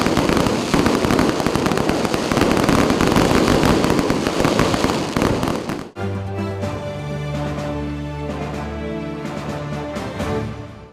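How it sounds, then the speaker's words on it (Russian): Dense crackling and popping of fireworks celebrating the end of Ramadan in Chechnya fills the first half, then bursts continue over a steady tonal hum and musical background. "После совместного разговения они отметили окончание священного месяца красочным салютом."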